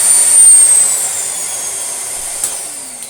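A Miele C3 Complete Powerline vacuum cleaner motor running loud and close with a steady high-pitched whine that glides slightly downward, a brief click near the end.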